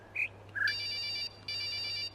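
Inside the puzzle game The Witness, a telephone gives two quick chirps and then two sustained electronic rings separated by a brief gap, heard alone over a faint background hum.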